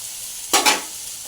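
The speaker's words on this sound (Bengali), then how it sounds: "এই যে মাছ আর মশলাটা ভাজা ভাজা হয়ে গেছে।" Prawns and spices frying in a pan, a short burst of loud sizzling as they are stirred, two quick crackling surges over a quiet background.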